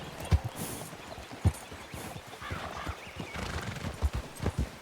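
Group of horses in a Wild West video game setting in the town of Blackwater, with irregular hoof clip-clops, a few louder thuds and a whinny at moderate distance, and no talking.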